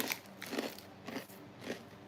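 Crunchy Cheetos are eaten up close, with four crisp bites and crunches at a steady half-second rhythm and quiet pauses between, without any talking.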